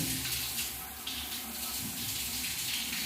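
A hand shower boosted by a pressure pump sprays water in a steady, loud, broadband hiss that runs continuously without pause, close to the listener.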